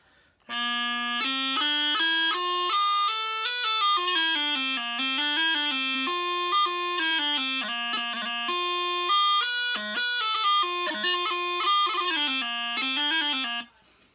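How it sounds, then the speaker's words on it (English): A bagpipe practice chanter plays a continuous reedy melody with quick grace-note ornaments, moderately loud and close, with no pauses between notes. "But basically, you learn on a chanter. It's quieter."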